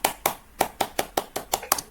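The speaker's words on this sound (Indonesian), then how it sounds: "tepuk pramuka satu kali" A scout group of children claps in a quick, steady rhythm, about ten sharp unison claps close by, with no speech.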